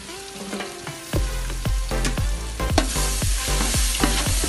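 Masala being sautéed in a pan for dried fish biryani, with a loud sizzle under repeated scraping strokes of a spoon against the pan, roughly one stroke per half second.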